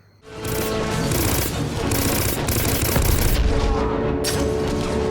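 Video game firefight at a dockyard, with enemies gunned down by sustained automatic fire. Loud, dense rattling bursts run without a break after a short quiet start.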